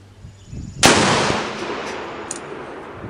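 A single powerful revolver shot from a .454 Casull cracks loudly at close range outdoors, followed by a long rolling echo that slowly fades.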